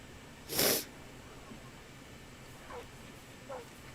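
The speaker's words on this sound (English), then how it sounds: "having a little bit of a sneezing fit" One sharp, loud human sneeze bursts out early, followed by two much fainter, brief breathy sounds as the sneezing fit trails off, with a steady low background hiss throughout.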